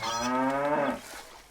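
A cow in the medieval castle-building game Stronghold Definitive gives one drawn-out moo, loud and close, fading into quiet afterward.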